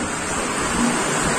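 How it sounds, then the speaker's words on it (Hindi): Very heavy rain roars in a loud, steady wash of noise, close and continuous with no pauses. "बहुत तेज बारिश हो रही"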